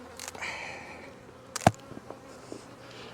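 Honey bees buzz faintly inside an opened hive, a soft, scattered hum with a few louder passes nearby and one sharp knock as the lid comes off.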